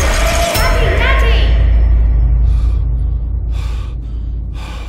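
Character panting and gasping in the horror game Amnesia: A Machine for Pigs, sharp breaths up close followed by quieter rhythmic breathing bursts over a low rumble, with a brief clinking sound near the start.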